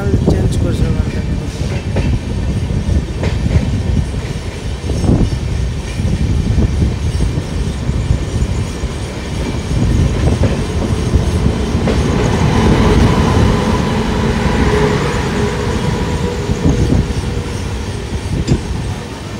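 An Agnibina superfast express rolls into Asansol, a loud, continuous rush of rail noise with rhythmic clickety-clack of wheels over joints and occasional squeals, heard close from on board, with brief talk mixed in.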